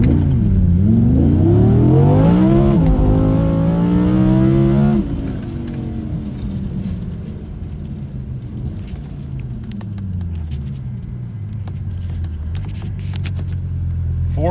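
Launching hard, an Audi R8 V10 Spyder with a naturally aspirated V10 roars up through rising revs with rear wheel spin, then backs off and continues as a quieter, fading engine drone.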